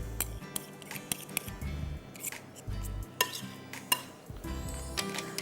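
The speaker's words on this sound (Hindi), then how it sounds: "अच्छा, अब मैं इसको मिक्स कर देती हूँ" Grilled chicken marinade being mixed in a dish, heard as irregular close clinks, scrapes and taps of a utensil against the bowl, with no talking.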